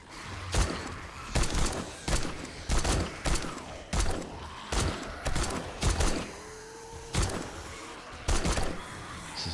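Video-game gunfire from a weapon with its silencer taken off, about a dozen heavy booming shots spaced roughly every second, each with a short rumbling tail.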